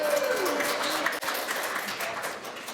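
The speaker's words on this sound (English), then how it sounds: "Give yourself another round of applause." A live audience at a kidney transplant medical symposium applauds, steady clapping that fills the room and briefly dips before continuing at a fairly even level.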